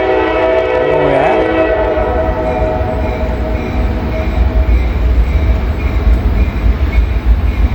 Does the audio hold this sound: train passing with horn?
yes